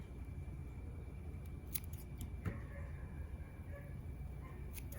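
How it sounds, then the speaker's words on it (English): Scissors trim the skirts of handmade fishing jigs at a workbench, making a few faint, crisp snips spaced over a quiet background. "And then trim the skirts."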